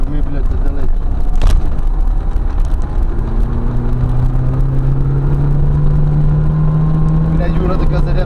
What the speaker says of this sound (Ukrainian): Юра, така зарядка пішла, що перестань газувати